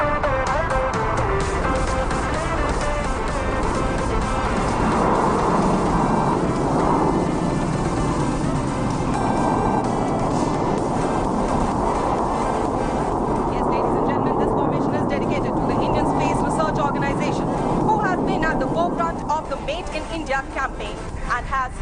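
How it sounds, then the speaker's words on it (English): Suryakiran aerobatic team jets pull up in formation at an air show in Bengaluru. Their sustained, loud jet roar continues throughout, with an announcer speaking over it. "आपकी दाहिनी ओर 2 o'clock की दिशा में पुल अप कर रही है सूर्यकिरण टीम एक अंतरिक्ष यान की फॉर्मेशन में।"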